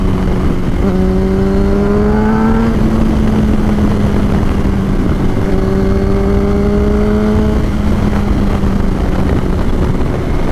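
A 2006 Yamaha R1 motorcycle cruising in second gear at around 50–60 mph, engine droning steadily under heavy wind rush, with two rising tonal sweeps as the revs climb and settle.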